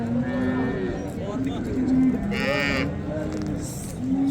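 A young calf moos repeatedly with drawn-out, tonal calls on a livestock farm, heard up close while people talk in the background.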